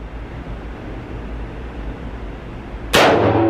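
A single sharp, loud metallic clang from a bullet striking a steel target rings out near the end, cutting through steady outdoor background noise and leaving a brief ringing tail.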